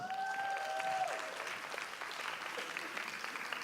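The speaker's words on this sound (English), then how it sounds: "Let's give her a round of applause." A room of attendees at a marketing panel session gives a sustained round of applause, dense and even throughout, with a brief feedback-like whistle at the start and a faint voice under the clapping.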